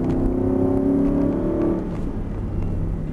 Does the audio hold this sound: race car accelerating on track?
yes